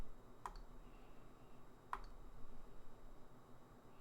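Calculator keys are pressed while sample statistics are entered for a confidence interval: two sharp, isolated clicks about a second and a half apart over a steady low background hum.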